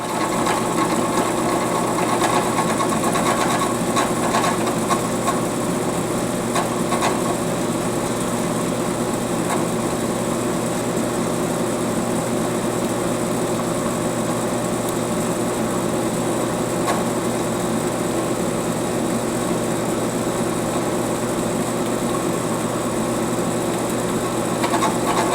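Milling machine cutting a 3/16-inch keyway 1.17 inches long in a machine shop: a steady, unbroken mechanical whine and hum that stays even and close throughout.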